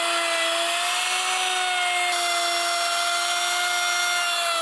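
A power tool cuts through plywood to make a cucoloris, a steady continuous high whine with sustained tones that slide slightly in pitch, loud and close with no pauses.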